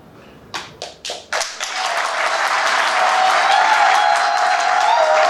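A wedding ceremony at a town hall: a few sharp separate claps open, then sustained applause from the gathered guests swells and holds steady, loud and full.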